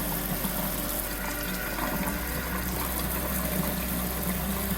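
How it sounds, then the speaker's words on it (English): Hot water runs steadily from a tap, a continuous hiss and splash of flowing liquid at moderate level throughout, with a low pump-like hum underneath. "Now it's hot water."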